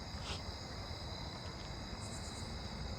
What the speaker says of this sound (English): I hear another broad-winged tree cricket.